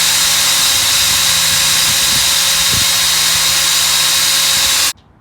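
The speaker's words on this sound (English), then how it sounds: "You can just take the drill and just move it up a little bit." Power drill runs continuously at high speed while boring a hole in the engine bay of a Ford F150, loud and close, then cuts off abruptly near the end.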